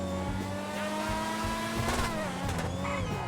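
A PR4 open-wheel F1-style car in GTA 5 Online runs with a steady, loud, close engine drone whose pitch rises and falls with revving, with no talk over it.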